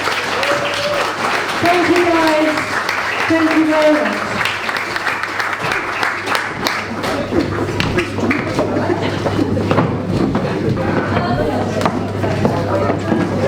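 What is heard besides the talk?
audience applauding the choir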